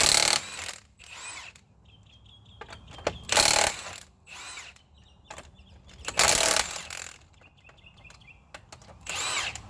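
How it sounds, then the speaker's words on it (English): A 19 mm socket wrench loosens covered lug nuts on a Dodge Caravan wheel during brake work, with several loud bursts of tool noise and ratcheting clicks separated by quieter pauses, no talking. "You're going to use a number 19 millimeter for the lug nuts."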